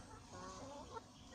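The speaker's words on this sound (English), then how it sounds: "That's actually a chicken, not a rooster." Several farm chickens clucking nearby in a backyard flock, soft irregular calls scattered over a steady low background.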